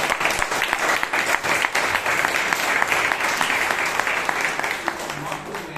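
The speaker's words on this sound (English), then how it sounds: "give Sheeb Kumar a big round of applause." An audience at a Bangalore Toastmasters meeting gives a sustained round of applause that fills the room. A voice speaks faintly beneath the clapping.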